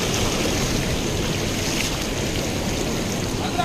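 The Krishna river rushes through a canal in a loud, steady, churning roar of fast-flowing water that continues without a break, heard up close.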